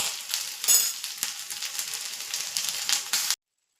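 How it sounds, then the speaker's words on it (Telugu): Sweet corn frying in ghee gives a close, steady crackling sizzle with a few sharper pops and stirring scrapes, cutting off abruptly near the end. "ఒకసారి పూర్తిగా ఫ్రై చేసుకోవాలి గీలో."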